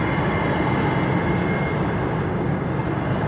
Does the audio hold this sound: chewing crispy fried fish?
no